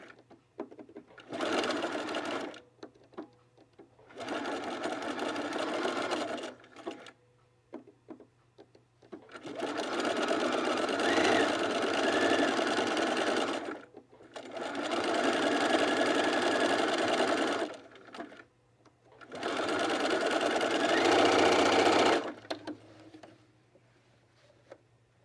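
A home sewing machine stitches a zigzag pattern on a pajama top in five whirring bursts of several seconds each, its motor humming steadily with short quiet pauses between runs.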